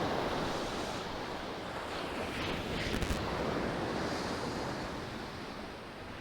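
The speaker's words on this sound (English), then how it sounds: "Just wait for this next wave." Ocean waves breaking on a shingle beach at Shoreham while shore fishing for bass, a steady continuous wash of surf with light wind noise on the microphone, no voices.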